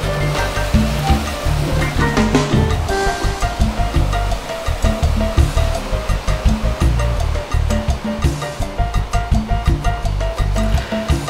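Ocean waves crash against coastal rocks and pour into crevices and small coves: a loud, continuous roaring surge with rhythmic pounding bursts, close by, and no voices.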